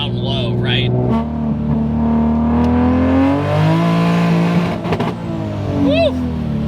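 A 900HP manual Toyota Supra snarls as it accelerates, its loud, gritty engine note climbing in pitch through the gears, with brief voices over the roar.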